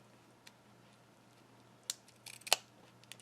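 Scissors snipping through reservoir cushion material: a couple of quiet, brief cuts close by against a faint steady hum.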